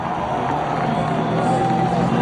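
A crowd at the NASCAR Nationwide Series hairpin in Montreal roars steadily over the drone of passing race cars, a continuous loud wash of cheering mixed with engine tone.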